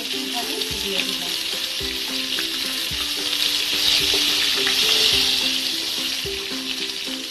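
Pointed gourd (potol) fries in hot oil, a steady close sizzle with soft stirring knocks and a slow swell in loudness partway through.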